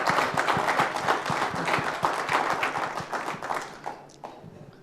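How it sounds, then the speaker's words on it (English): Sustained applause from a conference crowd, dense steady clapping that carries on for several seconds before thinning out and tapering off at the end. "Can we have a big round of applause for him,"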